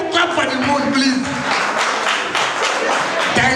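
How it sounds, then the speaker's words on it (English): An audience at a cultural stage event in The Hague claps in a dense, steady wash of many hands, fairly close and loud, with a voice speaking over the top. "Clap for clap for the moon, please."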